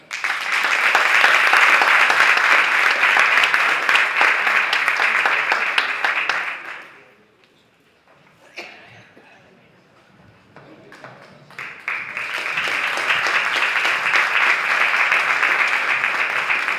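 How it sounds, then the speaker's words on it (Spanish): Crowd applause at a traditional folklore festival, loud dense clapping that fades out midway, a quiet gap with scattered sounds, then a second sustained round of applause. "Un aplauso."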